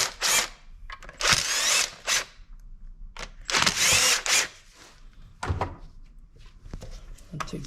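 A power driver backs T30 screws out of a GM 2.0L turbo engine in bursts of close, whirring spinning with clicks and clunks of handling in between, several short runs in a row.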